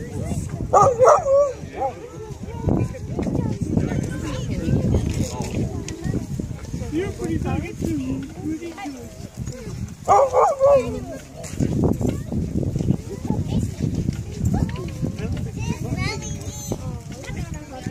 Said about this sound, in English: Different kinds of dogs.